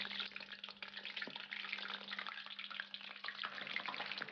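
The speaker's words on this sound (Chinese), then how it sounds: "把鱼片像这样一片一片的放入锅中" Fish slices dropped into hot oil in a wok, frying with a dense, even crackling sizzle that holds steady from start to finish, close and fairly quiet, with no speech.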